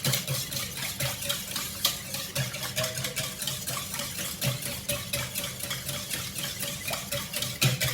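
A utensil scrapes and swirls through chicken, mustard and onion quiche filling in a bowl, making a steady rhythmic swishing with soft periodic knocks against the sides, close-up and alone.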